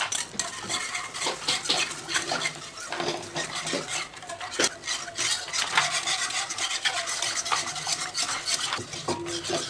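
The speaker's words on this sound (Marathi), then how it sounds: "हे कॉर्नफ्लॉवरची स्लरी टाकायची आणि ह्याला हलवत राहायचं सारखं" A spoon scrapes and clinks steadily against a hot kadhai while cornflour slurry is stirred continuously, in a close, busy rhythm of metal rubbing and tapping.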